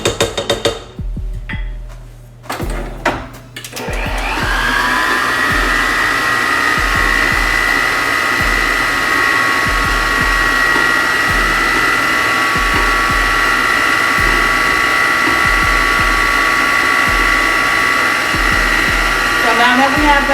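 An electric mixer creams banana nut bread ingredients in a steady, loud, continuous whir after a brief start-up, running on without pause for the rest of the stretch.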